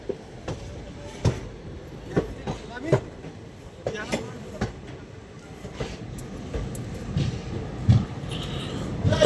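A train pulling into Bhusawal Junction at dawn, its wheels clicking in an uneven rhythm of knocks and clunks, close and moderately loud, with a voice talking at points.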